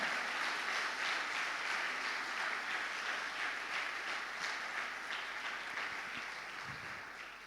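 A church congregation claps steadily and warmly for several seconds, the applause slowly fading toward the end.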